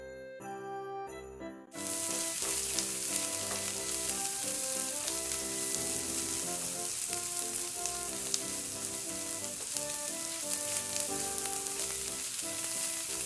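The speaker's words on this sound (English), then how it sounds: "Just give it a nice toss until they soften and they reach a beautiful golden brown" Onions fry and are tossed in a pan until soft and golden, producing a continuous close sizzle with occasional stirring scrapes under steady background music after a brief music-only opening.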